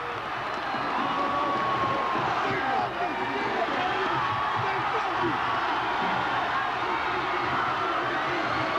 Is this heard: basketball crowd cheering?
yes